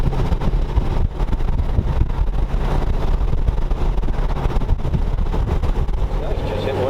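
A 1932 Ford roadster with a freshly swapped engine runs steadily while driving, a loud continuous rumble with wind buffeting the microphone, and people talking over it.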